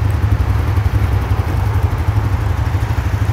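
Motorcycle engine running steadily at low revs as the rider gradually releases the clutch to pull away, a loud, close, continuous rumbling thrum heard alone.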